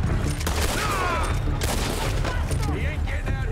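Shootout gunfire at Braithwaite in Red Dead Redemption 2, a loud, continuous fusillade of shots and booms over a heavy low rumble, with voices mixed in.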